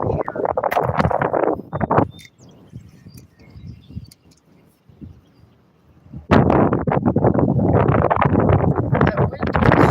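Wind blows outdoors beside a fishing pond, buffeting the microphone in loud gusts that drop briefly to a quieter lull before surging back.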